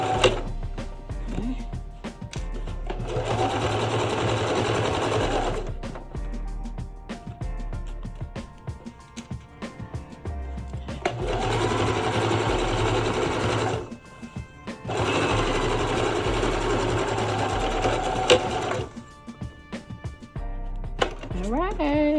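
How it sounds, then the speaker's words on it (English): A sewing machine stitches a bag made from dollar-store chair covers in repeated loud whirring runs separated by short pauses, with faint handling noises between bursts. "I did sew the bag together, good side to good side."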